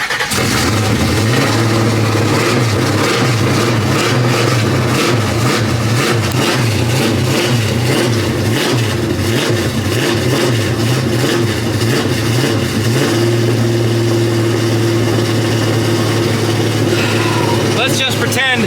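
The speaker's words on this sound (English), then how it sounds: "Well, it's coughing and sputtering." A Pontiac LeMans with a 455 engine and ignition trouble coughs and sputters as it is cranked, uneven pulsing firing running steadily and loud throughout, with a roughly held tone that drops off late.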